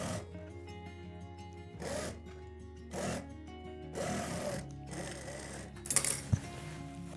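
An electric sewing machine stitches a trouser along its markings in several short, quiet bursts of rapid whirring, separated by pauses.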